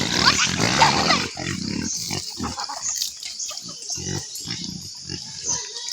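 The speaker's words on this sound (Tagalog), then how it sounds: "Dagan kay baboy oh." A live pig held down before being prepared for lechon at a birthday gathering gives loud, harsh squeals up close, then a steady series of short grunts and snorts.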